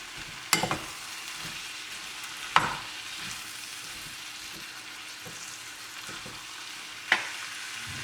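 Green beans curry with spices being stirred in a pan, Sri Lankan style, a steady low sizzle with three sharp spoon clanks against the pan and quieter scraping between.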